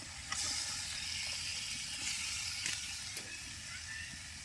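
Potato and eggplant tipped into ginger-garlic paste masala sizzling in a pan, a steady close frying hiss with a few soft stirring scrapes and clinks, no talk.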